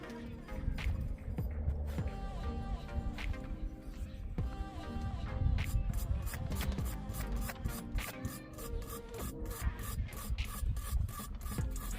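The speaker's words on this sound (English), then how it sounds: "Take our wire brush to get the hard stuff off" A wire brush scrubs hard grime off a mobile dolly during a repair, giving steady, close, rasping strokes with a sharp rhythmic scraping pattern in the second half.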